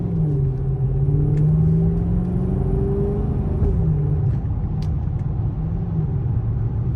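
A 2013 Dodge Charger R/T AWD with Powerstop Z26 performance brakes accelerates steadily toward 40 mph, its engine a loud, continuous low rumble with a smooth rising drone and faint road noise, no talk.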